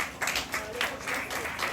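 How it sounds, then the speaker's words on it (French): An audience at a champions' honour ceremony applauds in short, uneven bursts of clapping that swell and fade. Faint voices sound beneath. "On les applaudit bien fort"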